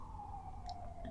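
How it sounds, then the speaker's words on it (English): An emergency vehicle siren wails steadily outside, faint and distant, with a single sustained tone under a low room hum and a couple of small clicks. "sorry about that siren."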